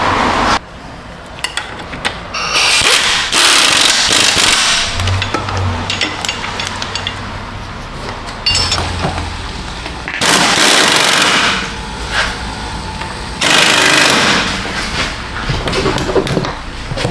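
Bolts on a 2014 Tahoe suspension being snugged up with a power tool, loud rattling impact bursts in several clusters with quieter gaps between, close up and with no talking.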